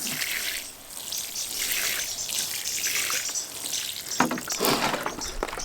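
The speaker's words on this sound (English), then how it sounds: "you definitely want to make sure that you give your plants a nice water" Water pours over freshly transplanted tomato plants in containers, a gentle splashing trickle that swells and eases, with a brief louder spatter near the end, close by and free of talk.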